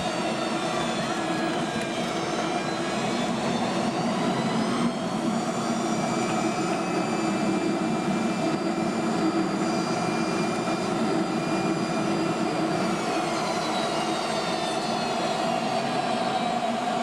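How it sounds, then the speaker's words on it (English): An Eastern Airlines Boeing 727-200 trijet touches down on the Atlanta runway, heard from the cabin as a sustained jet roar with high whining engine tones that shift and sweep in pitch. "Touchdown on the Atlanta runway."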